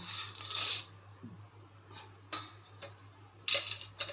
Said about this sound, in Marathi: आधी वेलची मी भाजून घेते